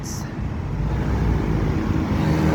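Heavy road traffic crawls across a bridge on its opening day, a dense, continuous rumble of cars, buses and trucks close by, with a voice speaking briefly over the steady roar.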